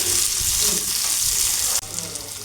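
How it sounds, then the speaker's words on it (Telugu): Steady sizzling of curry leaves frying in hot oil, continuous and close, with a brief dip near the end before the crackle resumes. "కరివేపాకు వేసుకొని కలుపుకోవాలి. ఫ్రై చేసుకోవాలి."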